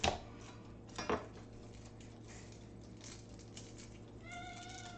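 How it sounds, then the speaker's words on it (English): Kittens pestering an older cat in a home kitchen, with a couple of sharp meows near the start and another around one second, then softer chirps and a drawn-out cry at the end, faint and close with light clinking. "And now my kittens are messing with my older cat."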